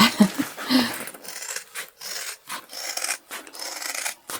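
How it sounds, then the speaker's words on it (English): Close, crisp snipping and rasping of scissors cutting through fabric, a few quick strokes followed by softer, uneven rustling cuts. "And now we can go back to our sharp scissors."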